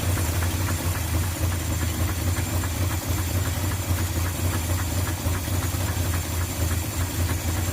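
A 1976 Ford F-150 Ranger engine idles steadily after a carburetor adjustment, a continuous low rumble with a faint rhythmic knock running throughout, close and alone with no talking.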